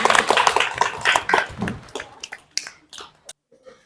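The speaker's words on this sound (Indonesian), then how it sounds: "Tepuk tangan." A classroom of students claps after a group presentation, with brisk overlapping claps at first that quickly break up into a few scattered, sharp claps before stopping.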